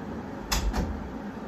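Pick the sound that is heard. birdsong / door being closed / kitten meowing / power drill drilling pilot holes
door being closed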